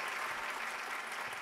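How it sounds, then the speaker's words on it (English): Concert audience applauding after a song at a theatre, a brief, even, distant-sounding wash of clapping with no voices over it. "I really appreciate the audience being here and the applause"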